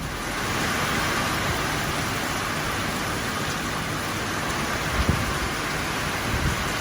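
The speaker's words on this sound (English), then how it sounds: "It's been raining for about 20 minutes." Steady rain pours outdoors, a dense, even hiss that fills the scene without a break, with a couple of faint low thumps near the end.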